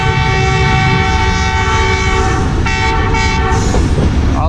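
Badar Express pulling into Chak Jhumra Junction railway station, a loud steady rumble of rolling wagons with a sustained multi-tone horn blaring throughout, close and continuous.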